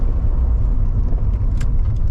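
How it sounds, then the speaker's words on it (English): A supercharged K20 EF wagon with 2.5-inch exhaust, box muffler and resonator drives along, its loud, steady low rumble and road roar carrying a loose exhaust rattle. "When you're driving, you can really hear the exhaust rattling"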